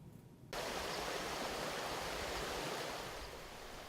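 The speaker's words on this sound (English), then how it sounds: "This is Ficky Run, arguably the most acid mine drainage impaired stream in all of West Virginia." Water rushes in Fickey Run, an orange acid mine drainage stream in West Virginia, as a dense, steady broadband flow that begins abruptly and holds near and continuous.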